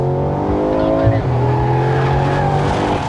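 A Mercedes-AMG G 63 accelerates hard, its engine note climbing and shifting as gears drop, with the exhaust roaring loud and close inside the cabin and a voice talking over it.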